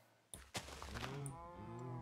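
Minecraft cows low in a pair of drawn-out moos, the second one longer and warbling. Both sound close and moderately loud, with no talk over them.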